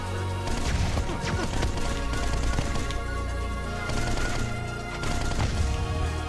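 Rapid bursts of shotgun fire from the twin-stick shooter NeuroVoider come in quick clustered volleys over a continuous electronic music track, with occasional crunching impacts.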